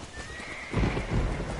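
A horse in the video game Red Dead Redemption whinnies with a long rising-then-falling call, followed by a burst of snorting and hoof noise, close and fairly loud.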